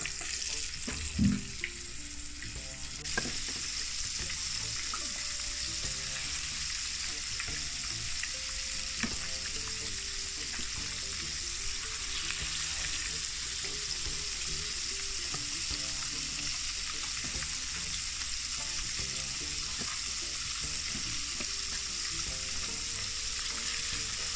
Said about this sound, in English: I'm gonna fry up this set and then I fry the rest after, just like that.